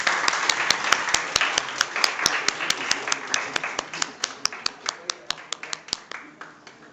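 Applause from a small audience at a college physics department session, distinct individual claps, fairly close, gradually thinning and fading out toward the end.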